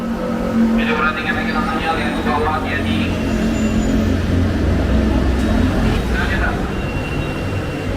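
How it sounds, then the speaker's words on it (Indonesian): Steady, loud rumble and road noise from a Golden Dragon SAG electric bus on a TransJakarta BRT route nearing a stop, with a voice talking over it throughout. "Electric bus juga nih, tapi kalau ini Golden Dragon SAG ya."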